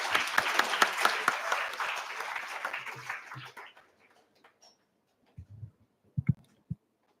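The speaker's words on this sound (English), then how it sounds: "Can we have a huge round of applause for ma'am?" Audience applause at a professional session, a moderate burst of clapping that fades away within a few seconds, followed by scattered faint knocks and shuffles.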